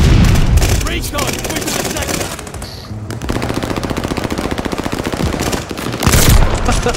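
Video-game gunfire: loud, rapid automatic bursts with a steady rattling rhythm, broken by a pause and then heavy booming fire at the end, with a voice talking over parts of it.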